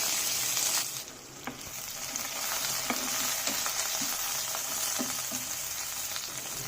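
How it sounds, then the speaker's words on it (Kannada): Onion, curry leaves and crushed garlic sizzle steadily in hot oil in a pan, with scattered light pops and spoon scrapes as the mix is stirred, close and continuous. "ಈಗ 1 ಈರುಳ್ಳಿ ಸೇರಿಸ್ಕೊಳ್ಳೋಣ. ಜೊತೆಯಲ್ಲಿ ಕರಿಬೇವು ಸೊಪ್ಪು ಸೇರಿಸ್ಕೊಳ್ಳೋಣ. ಹಾಗೆ ಜಜ್ಜಿರೋ ಅಂಥ ಬೆಳ್ಳುಳ್ಳಿ ಎಲ್ಲವನ್ನು ಒಟ್ಟಿಗೆ ಫ್ರೈ ಮಾಡ್ಕೊಳ್ಳೋಣ"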